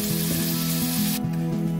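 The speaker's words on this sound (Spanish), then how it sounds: "Ponemos 3 cucharadas de aceite, rehogamos la cebolla." Onion frying in three spoonfuls of olive oil in a pot, a steady broadband sizzle and spit that holds constant and close throughout, with a faint low hum underneath.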